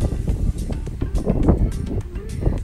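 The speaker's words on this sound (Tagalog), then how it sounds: "Ang hangin." Steady wind rushing and buffeting outdoors in Tagaytay, loud and close, with low rumbling gusts throughout.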